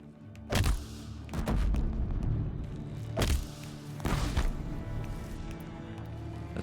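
Several heavy thuds and booming impacts from explosions in the video game Horizon Zero Dawn, four sharp bursts spaced a second or so apart over a low, steady background hum.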